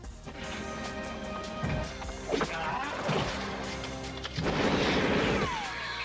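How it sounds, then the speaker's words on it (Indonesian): Gunfire from a film scene of Japanese soldiers firing, a dense mix of sharp shots and crashing impacts with loud bursts over a continuous rumbling battle backdrop. "menggendong Nigel di tengah hujan peluru tembakan tentara Jepang"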